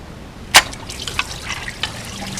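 Water drips from the water pump of a 2007 Honda Accord Hybrid into a drain pan during a timing belt job, a sharp splash followed by a few scattered, faint drips.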